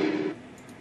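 A short Windows exclamation alert sounds alone: a single bright, fairly loud tonal burst that holds for about a third of a second, then fades quickly into quiet.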